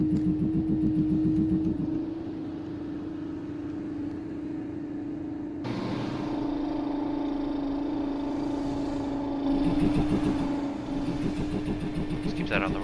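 Kenworth W900 truck engine in a trucking video game, a steady mid-pitched drone that rises in pitch as the truck speeds up, with a shift in tone partway through, running continuously under a talking voice.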